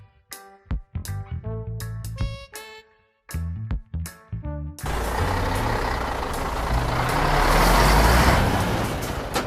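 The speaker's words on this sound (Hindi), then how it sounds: "सीताराम मिनी ट्रक को चलाते हुए थोड़े दूर जाते ही फिर से गाड़ी रुक गई।" A mini truck's engine turns over in a few sputtering bursts, then settles into a steady, loud running rumble that swells slightly as it drives off.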